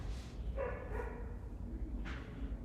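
A dog barks outside, a few short, muffled barks spread over a couple of seconds, heard at a distance with no speech.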